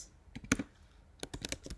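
Quick bursts of key clicks on a computer keyboard, a few scattered taps and then a rapid run of typing, close and fairly quiet.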